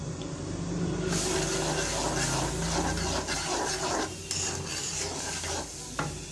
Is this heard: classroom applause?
no